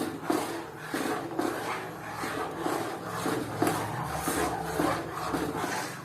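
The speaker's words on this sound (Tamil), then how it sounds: "அரை மணி நேரமா கிண்டிட்டு இருக்கிறேன்." A spoon scrapes and rubs through thickening milk in a pan while making Srivilliputhur paalkova, with soft, regular stirring strokes repeating at a steady pace close by.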